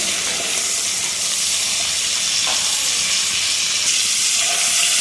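Prawns stuffed with pointed gourd and dusted with chili powder fry in hot oil, giving a steady, close, continuous sizzle and hiss.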